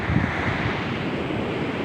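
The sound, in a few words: spring water flowing under snow in the mountains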